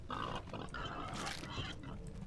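Javelina pig in a video game, grunting and snorting in several short nervous bursts, fairly close and moderately loud with no voices over it.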